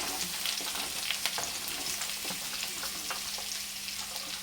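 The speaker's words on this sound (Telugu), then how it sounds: "ఇంకా ఎండుమిర్చి, పచ్చిమిర్చి చీలికలు, ముందుగా తగిలి పెట్టుకుని ఉల్లిపాయలు ఇవి కూడా వేసేస్తాం." Dried red chilies, slit green chilies and onions frying in oil with cumin for Rayalaseema uggani, a soft continuous sizzle with light crackles and occasional stirring taps, fairly quiet and free of speech.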